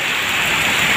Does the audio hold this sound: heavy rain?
yes